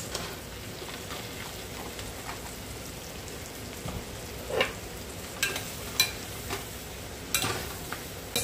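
Sliced mushrooms hitting a pot for homemade mushroom soup, a steady soft sizzle like light rain with occasional sharper crackles and taps, close and quiet, no speech.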